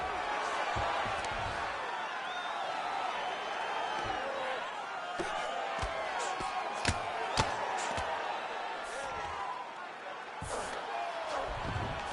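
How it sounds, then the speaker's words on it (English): In a UFC video game bout between St-Pierre and Brady, repeated ground-and-pound punches land as sharp thuds and slams over a constant crowd roar, with commentators talking throughout. "Ground and pound strikes raining down."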